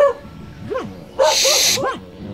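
Dogs bark in a rural mountain setting in El Salvador, a few short, close, loud yelps and barks in quick succession, with a burst of hissing noise in the middle.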